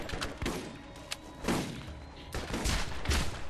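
Shotgun blasts from the video game Borderlands, several separate heavy booms spaced out over a few seconds, moderately loud against game background noise.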